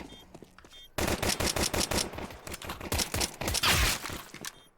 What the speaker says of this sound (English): Gets a headshot from Accept.